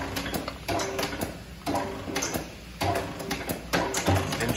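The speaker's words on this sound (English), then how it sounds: "the Bosher Notcher. Currently wired 220, three phase," A 220-volt three-phase Bosher notcher run by foot pedal strikes in a repeating mechanical rhythm, with sharp clunking strokes about every second over a steady machine hum.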